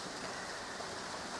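Steady rain falls outdoors on a garden allotment plot in late July, a dense, even hiss of drops with no breaks, no talk and no other distinct sounds.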